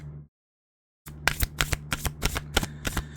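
Tarot cards shuffled by hand: after a brief silence, a run of quick, crisp riffling bursts close to the microphone, with no voice.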